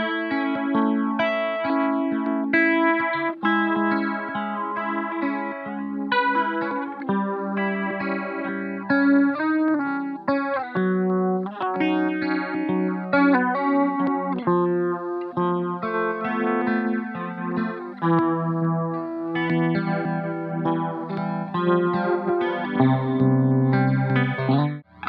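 A guitar plays through a Stylus pedal's Degrade effect in lo-fi mode, giving a band-limited, gritty, warbling tone; strummed chords and single notes ring continuously at steady loudness.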